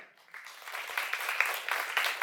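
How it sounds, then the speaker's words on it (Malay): An audience at a Hari Mastera 2023 literary event claps, the applause building from a faint start into a dense, sustained patter that continues to the end. "Dr. Rosalina Rawi, berikan tepukan."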